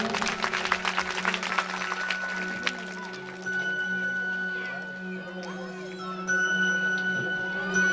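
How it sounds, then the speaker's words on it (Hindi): A large audience at a Bhagavat Katha religious gathering claps loudly for about three seconds, a dense crackling burst that fades into quieter sustained tones and background murmur. "इनके लिए जोरदार तालियां।"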